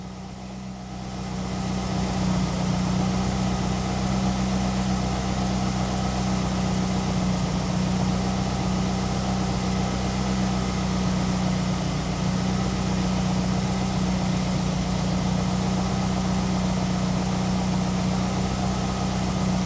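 A car engine idles steadily at close range with a constant low hum and faint vibration, the car carrying a lean-condition P0171 check-engine fault; the level swells slightly in the first two seconds, then holds even throughout.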